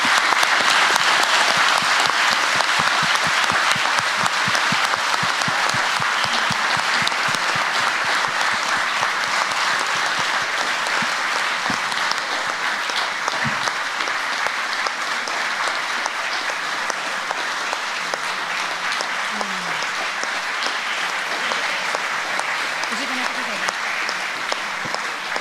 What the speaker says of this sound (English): I would really ask you now to give a huge applause to our guest